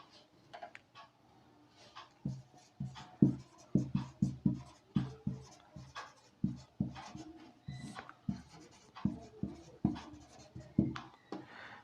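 Pen strokes scratch across paper while a maths solution is worked out, a close, rhythmic series of short writing scrapes and taps with no talk over them.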